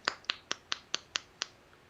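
A voice imitates tapping on glass with seven crisp, evenly spaced clicks, close and clear, with no other sound around them.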